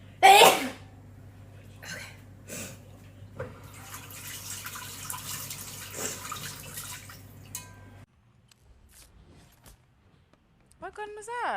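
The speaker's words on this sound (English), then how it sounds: "I sneezed." A streamer lets out one sharp, loud sneeze right at the start. Quieter indoor sounds, light taps and some talking follow over a faint steady hum.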